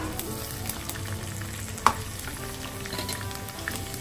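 Mint, coriander and curry leaves frying in hot oil for chicken biryani, a steady close crackling sizzle throughout with one brief sharper pop midway, no voices.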